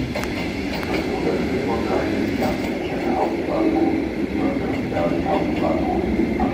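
An ICE train pulls into a station with a loud, steady rolling rumble and faint wheel clatter, while a platform announcement voice speaks over it.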